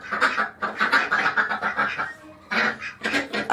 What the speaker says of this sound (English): The ducks have found that I'm in here.